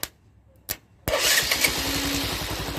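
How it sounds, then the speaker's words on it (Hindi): A motorcycle engine starts after its starter relay terminals are bridged by hand, two brief sputters and then a catch that settles into a steady, close idle with no talking. "ये देखिए मोटरसाइकिल आपका स्टार्ट हो गया"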